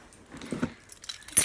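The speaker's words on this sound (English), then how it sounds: "Keys," Keys on a keychain jangle in a few quick, light metallic clinks and rattles, close by and fairly quiet, ending in a brighter shake.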